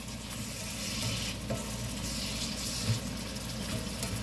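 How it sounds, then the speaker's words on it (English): Mushrooms sautéing in a pan on the stove, a steady close sizzle with soft scraping from stirring, continuous and moderately loud. "Let's saute these mushrooms around."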